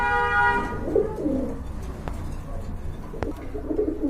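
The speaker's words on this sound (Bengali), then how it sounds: "আর এখানে এক জোড়া কবুতর রয়েছে গিরিবাজ সুন্দরী গিরিবাজ" A pair of Giribaz pigeons at a pet shop, cooing in low, repeated phrases close by, with a steady background hum and a few faint honks.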